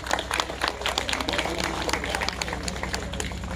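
Scattered hand clapping from an audience at a school Republic Day celebration, a steady, moderately loud patter of many hands with crowd murmur underneath.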